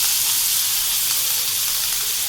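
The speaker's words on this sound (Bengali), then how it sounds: "কালো জিরে ফোড়নটা একটু চিরবির করে উঠুক।" Nigella seeds crackle in hot oil as a tempering for a bhetki fish curry, a loud, dense, continuous hiss close at hand.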